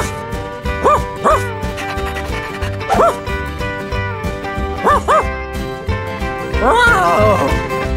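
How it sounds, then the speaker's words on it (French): Several dogs bark and yip in a farm barn where they sleep, short sharp barks coming in separate bursts a couple of seconds apart, close and loud, with an excited whimpering flurry near the end over a steady background. "C'est là que les chiens dorment!"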